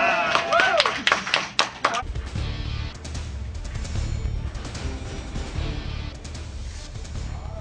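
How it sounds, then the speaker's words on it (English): Studio audience at a television news broadcast clapping in a short burst of sharp, close hand claps, then a busier, softer murmur of room noise and voices taking over. "big round of applause"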